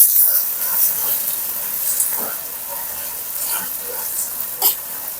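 Mushrooms and potatoes frying in a pan for a curry, a steady close sizzle and hiss with faint stirring scrapes throughout.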